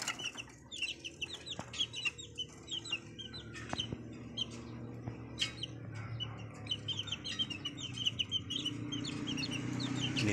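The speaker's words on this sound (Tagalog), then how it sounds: "Ganda ng manok na ito" Chickens clucking and chicks chirping steadily in a backyard flock where ducks are also kept, with occasional wing flaps; a busy, close, continuous layer of fowl calls and no talk.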